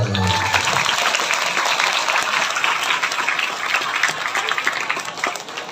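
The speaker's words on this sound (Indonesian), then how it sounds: "Tepuk tangan dong." Audience at an Indonesian Islamic sermon breaks into sustained, dense applause, loud and steady across the whole span, with some crowd noise mixed in.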